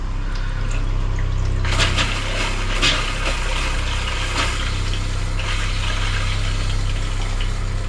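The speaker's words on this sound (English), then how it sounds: "This unit is equipped with a tankless water heater." Tankless water heater on a 2024 Springdale 269DBCWE travel trailer igniting while hot water runs, giving a steady low hum and rushing flow with a sudden burst of broadband whoosh as the burner catches, continuing at an even level.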